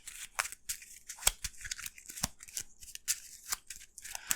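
A deck of Arkham Horror card game cards being shuffled close by, a run of quick crisp riffling and slapping bursts with no talk.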